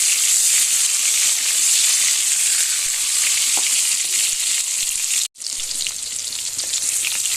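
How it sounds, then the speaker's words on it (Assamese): Salted pointed gourd (potol) fries in a pan, browning in hot oil with a loud, continuous sizzling hiss that breaks off for a moment before picking up again. "গোটেই পটলবিলাক ইটিক সিটিককৈ ৰঙা ৰঙা কৰি ফ্ৰাই কৰি ল'ম।"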